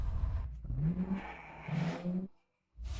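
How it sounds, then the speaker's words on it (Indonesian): A car engine accelerating and revving as it follows closely behind on the road, rising in pitch twice before cutting off abruptly, then resuming. "Nona, sepertinya ada sebuah mobil yang mengikuti kita."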